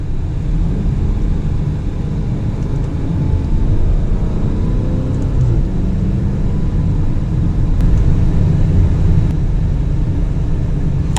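Lamborghini Urus, a 600-horsepower SUV, driving in sport mode, heard from inside as a steady low engine drone and road rumble with gentle swells in pitch as it shifts and accelerates.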